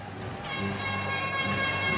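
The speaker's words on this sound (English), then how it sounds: "except for the odd air horn and other folks yelling and screaming" A long, steady air horn blares, loud and sustained with bright tonal harmonics, over a dull crowd murmur in a hockey arena during a 1984 NHL playoff game, Islanders at Capitals.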